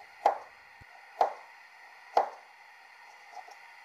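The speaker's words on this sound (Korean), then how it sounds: "먹기 좋은 크기로 썰어 놓습니다" Knife cutting abalone meat into bite-sized pieces on a cutting board, three crisp evenly spaced chops up close, followed by a fainter fourth tap, with no talking.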